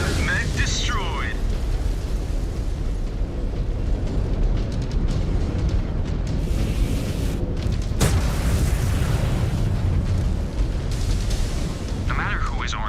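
A mech blowing apart in MechWarrior 5: Clans, a deep rumbling boom that rolls on steadily and loud, with a sharp burst near the middle, under a voice talking throughout.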